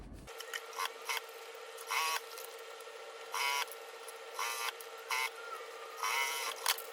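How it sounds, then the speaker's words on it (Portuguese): A sewing machine topstitching a thermal lunch bag of main fabric and lining runs in short repeated bursts over a steady motor hum, close and fairly quiet, with pauses between runs. "E vou fazer aqui um pesponto de acabamento."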